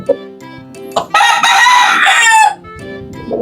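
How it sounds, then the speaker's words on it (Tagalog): A pure white Kelso rooster with a straight comb crows once, loud and close, a long bright call lasting about a second and a half, with softer clucking and bird noise before and after. "Pure white Kelso straight comb."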